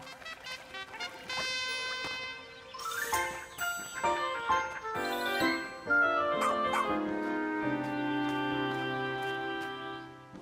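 Oatchi, the dog companion in Pikmin 4, gives short yips and whimpery barks over bright game music with chiming tones, the small cartoonish barks repeated through the clip.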